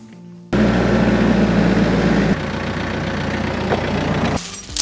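Tractor engine running loud and steady at close range, with a deep low rumble and a drop in level partway through, used to lift a fence post during a foam strength test.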